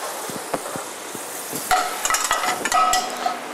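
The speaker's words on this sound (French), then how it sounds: "Donc les épinards, on les passe juste à la poêle, beurre moussant." Spinach is sautéed in a pan with foaming butter, a close steady sizzle broken by scraping and clattering as the leaves are stirred and tossed, with no talk.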